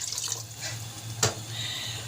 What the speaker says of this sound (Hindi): अब इसमें मैं पानी ऐड करूँगी।